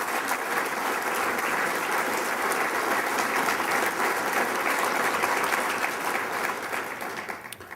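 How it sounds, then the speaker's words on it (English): Audience at a Torrance, California State of the City address gives sustained, even applause from many hands for nearly eight seconds, thinning slightly toward the end. "so let's give those guys a round of applause."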